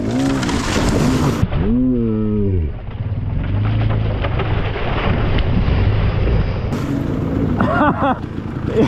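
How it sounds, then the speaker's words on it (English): A dirt bike engine revs hard while plunging into a deep hole at a river crossing, wind buffeting the microphone and water rushing around it; the rising and falling engine note is loud and close. "I found the biggest hole in the river. Dropped my front tire, went over the handlebars."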